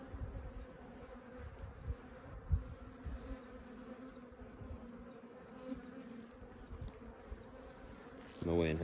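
Bees buzz steadily inside a dead late-season hive, mostly drones with a few old female bees, a continuous close droning hum that stays even throughout and swells louder in the final second.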